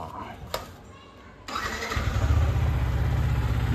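A vehicle engine cranks and catches at about 1.5 seconds, then settles into a steady, loud, close idle that continues to the end, with faint talk in the background before it starts.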